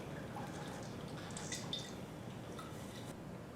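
Hot cardamom syrup is poured through a strainer set in a long-stem funnel and into a pot, making a steady liquid trickle with soft drips. No one speaks.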